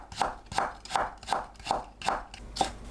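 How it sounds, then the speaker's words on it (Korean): A knife finely julienning carrots on a cutting board, producing a steady, evenly spaced series of crisp chopping taps, close and clear with no talking. "당근을 곱게 채 썰어주세요"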